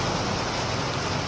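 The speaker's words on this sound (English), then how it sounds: "It's raining." Rain falls on a street in Siem Reap, Cambodia, as a steady, faint, even hiss of drops with no distinct splashes and no voices.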